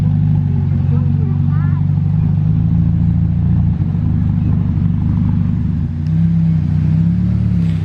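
A Ferrari Roma belonging to Charles Leclerc starts up and settles into a deep, steady engine rumble that carries on loud and continuous, with people talking over it.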